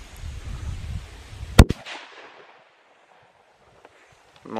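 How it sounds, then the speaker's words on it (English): A single sharp gunshot cracks out over low outdoor rumble, followed by a brief echo that fades into near silence. "When you're ready, you can pull the trigger."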